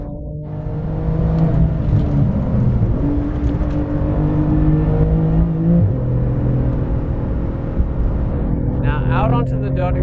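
A 700 HP Porsche 911 GT2 RS at full throttle on the Nürburgring Nordschleife, its engine a loud, sustained roar climbing in pitch through the gears with a brief dip at each shift.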